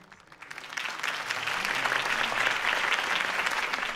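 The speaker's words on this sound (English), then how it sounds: "could have heard that applause" Crowd applause after a campaign speech in Batman: The Telltale Series, starting with scattered claps and swelling within a second into loud, sustained clapping that holds to the end.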